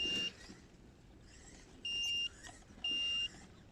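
An electronic beep from a Corally Triton brushed RC car's remote control sounds three times, short and loud with gaps between, over faint motor whine and background noise.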